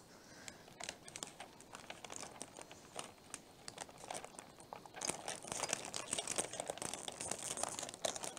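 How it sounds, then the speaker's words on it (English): Tape being pulled and pressed down to hold a sublimation bowl in place makes faint crinkling and tearing sounds in a busy, irregular stream that grows slightly louder toward the end. "So I'm just going to make sure I use a lot of tape."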